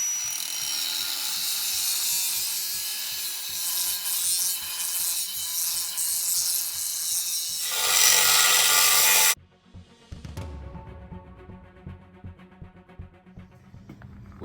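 Power drill boring a hole through an old steel tire carrier, a loud steady grinding whine with rhythmic pulsing that surges briefly near the end, then cuts off abruptly and leaves quieter clinks and handling noises.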